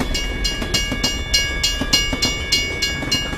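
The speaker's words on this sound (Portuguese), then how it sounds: "Mas o trem demorou a passar" A train rolls past at a railway level crossing in Brás, its wheels clattering over rail joints in a steady, loud clickety-clack rhythm close by, with a constant tonal hum underneath.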